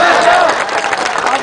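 Applause and clapping from the audience at a comedy poetry gathering in Gwalior, a dense crowd patter with some voices mixed in, steady and fairly loud throughout the short burst.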